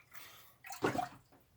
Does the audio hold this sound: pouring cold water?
yes